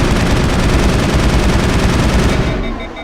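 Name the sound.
weapon firing in Mass Effect video game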